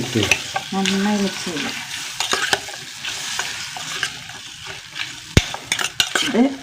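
Chillies splutter and crackle as pickle fries in a pan, with sharp popping bursts over a steady sizzle, occasional utensil clinks, and one loud snap near the end.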